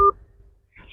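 A single telephone keypad tone sounds as the 1 key is pressed on a police emergency helpline menu, a short clear beep followed by near silence and then the line picking up.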